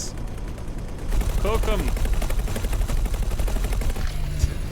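Rapid automatic turret gunfire in a space video game, a dense continuous stream of rounds that starts abruptly and keeps going loud and close, with a voice speaking over it.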